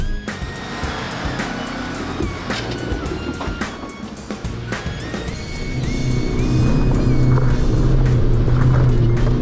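A Suzuki Jimny on 37-inch Mickey Thompson Baja Boss tyres, towing a trailer, climbs a steep, tough off-road track, its engine droning steadily under clanks and knocks from the vehicle, building louder and heavier near the end.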